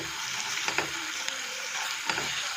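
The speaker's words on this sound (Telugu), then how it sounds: "ఫ్రై చేసుకుందాము, కొంచెం కలుపుకుంటూ" Mutton keema and onions fry in a pan with a steady, close sizzle while a spoon stirs them, adding a few soft scrapes and taps over the continuous hiss.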